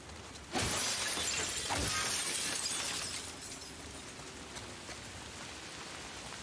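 Steady rain hiss in The Last of Us Part II, loud at first with a sharp splash near the start, then settling into a softer, even patter heard alone without talk.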